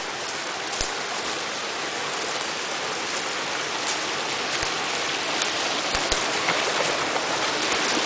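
Constant broadband rush of a creek flowing nearby at a campsite, steady and fairly loud with occasional small knocks and splashes.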